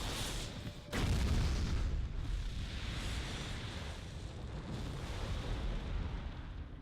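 A supernova nuke blast from the video game Jak 3 hits as a sudden heavy boom about a second in, then a long loud rumbling roar that slowly fades but keeps sounding to the end.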